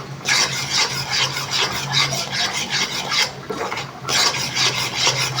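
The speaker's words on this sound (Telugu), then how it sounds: "ఈ విధంగా 10 నిమిషాల పాటు ఇలా కలుపుతూనే ఉండాలి." A spoon rasps and scrapes steadily through thick gram flour laddu mixture in a pan, in close repeated rubbing strokes with brief pauses, no one talking.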